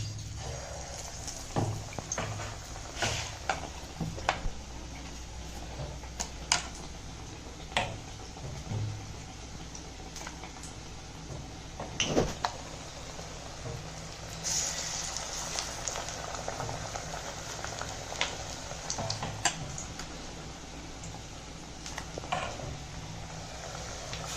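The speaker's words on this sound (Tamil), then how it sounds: "வாழைக்காயை இந்த மாதிரி தோச்சி 2 பக்கமும் தோச்சிட்டு நம்ம எண்ணெயில் போட்டுக்கலாம்" Batter-coated plantain slices deep-frying in hot oil for bajji, a steady bubbling boil with scattered pops and occasional utensil clicks, moderately close and alone without talk.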